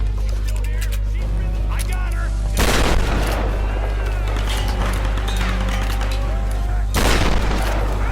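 Grenade blasts and gunfire in the Tomb Raider video game: two loud, booming explosions a few seconds apart, with scattered shots, over a steady game hum and someone talking.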